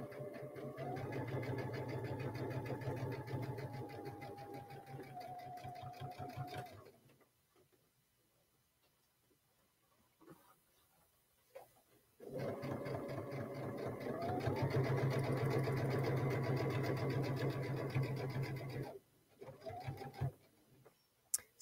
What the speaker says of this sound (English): I'm going to stitch a little bit of a tack down stitch here.